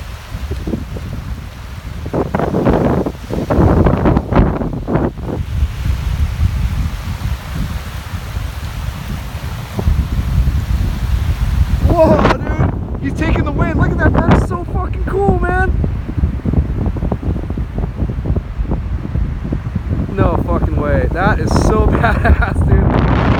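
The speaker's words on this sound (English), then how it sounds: "The wind just comes ripping across the lake." Strong April wind gusts across Big Bear Lake in California, with snow on the way: a steady, loud roar buffeting the microphone throughout, with voices faintly audible in places.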